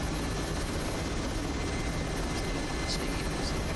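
Mi-8 helicopter flying in DCS World over Las Vegas, its rotor and engine making a steady, loud, broadband whir that holds evenly throughout with no talk over it.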